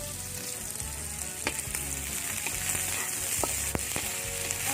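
Onion fries in a pan with a steady, close crackling sizzle, broken by sharp pops and occasional utensil clicks, with no talking.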